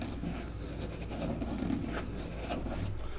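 A pencil traces a pattern onto a cover template for a solid body ukulele build, making a faint, close, continuous scratching and rubbing with soft uneven strokes, without talk.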